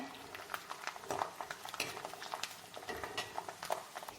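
Garlic, about fifty grams, frying in hot oil in a home kitchen, with a quiet crackling sizzle and scattered clinks of a spoon against the pan, faint and continuous.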